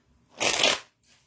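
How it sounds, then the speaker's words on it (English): Playing cards riffle-shuffled close by, one dense rustling burst of about half a second followed by a brief softer flutter. "I'm shuffling cards,"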